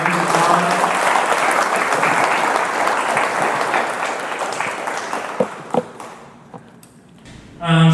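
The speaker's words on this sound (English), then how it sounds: "Can everyone give a round of applause?" A crowd at a Science Café talk gives sustained applause, loud and even at first, then thinning into a few scattered claps and quieting near the end.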